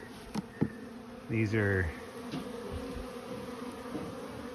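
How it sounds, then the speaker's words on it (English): Honeybees buzz with a steady, low insect drone around flowers during a rainy honey harvest, joined by a brief spoken phrase and a few soft knocks. "These are bees, sometimes when they're flying, they fly right till dusk"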